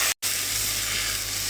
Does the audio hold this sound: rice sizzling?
yes